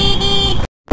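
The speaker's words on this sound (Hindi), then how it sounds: "आगे क्या ही ट्रैफिक है, क्या ही ट्रैफिक है" A car horn blares loudly and steadily in heavy, jammed road traffic for over half a second before cutting off abruptly, then a brief burst of traffic noise returns after a short gap.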